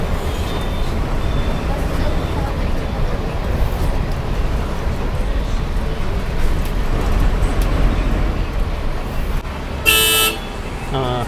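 Heavy evening road traffic near Koyambedu in Chennai, a dense continuous roar of buses and cars with a sharp horn blast near the end.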